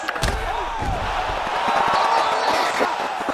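UFC 5 video game arena crowd cheering loudly after a fight-ending knockout, a dense roar with sharp thuds and slams mixed in.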